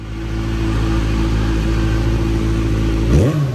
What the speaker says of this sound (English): And that exhaust has a beautiful tone as well.